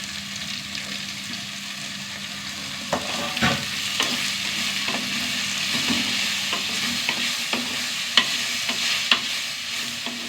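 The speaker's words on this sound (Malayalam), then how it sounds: "കോവയ്ക്ക നന്നായി വഴറ്റിയെടുക്കാം." Sliced ivy gourd, a quarter kilo cut lengthwise, being stir-fried with onion and ginger in a pan: a steady oily sizzle broken by sharp spatula scrapes and clicks, close and alone with no voices.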